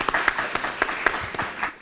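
A short burst of audience clapping at a genocide remembrance event, scattered and uneven claps from a modest crowd, fading out after under two seconds.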